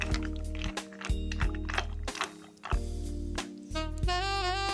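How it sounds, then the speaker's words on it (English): Pasta being stirred into broth in a pot for a BBQ ranch cheddar meatball pasta, giving soft wet squishing and liquid sloshes with a few light knocks, close and moderately quiet over a steady low hum. "I'm going to go ahead and mix that. And you want to make sure your pasta is down in your broth."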